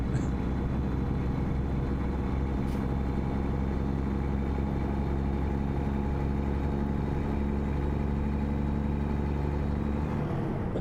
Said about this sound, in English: Now the engine doesn't sound exactly how it does in my truck.